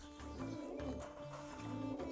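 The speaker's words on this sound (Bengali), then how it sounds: "এটা লক্কা জাতের কবুতর।" A Lakka breed pigeon coos softly in a farm loft, low repeated cooing notes in a rhythmic pattern, faint against a background hum.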